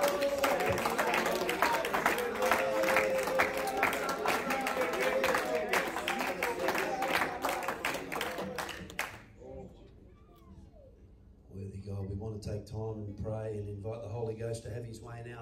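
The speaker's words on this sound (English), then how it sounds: "Let's give a clap offering." A church congregation claps together for several seconds, loud and dense, before it breaks off. Quieter sounds and voices follow afterward.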